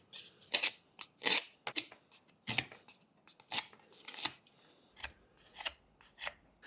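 Knife making rough whittling cuts into a small piece of wood, a series of short, sharp scraping strokes at close range, irregular in rhythm with brief pauses between, heard alone.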